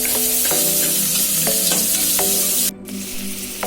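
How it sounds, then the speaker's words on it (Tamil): Onion, garlic and curry leaves sauté in a pan with a loud, close sizzle broken by repeated spatula strokes and scrapes, the frying dropping quieter near the end. "வெங்காயம் நல்லா வதங்கிடுச்சு"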